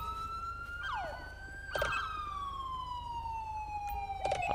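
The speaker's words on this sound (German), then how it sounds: "mach deine Sirene aus." A police siren wails close by in a steady, slowly falling electronic tone, loud and continuous, with a few sharp knocks and bursts of noise over it and no speech.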